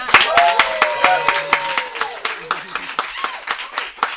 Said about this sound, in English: can we just get a round of applause for Claus Out?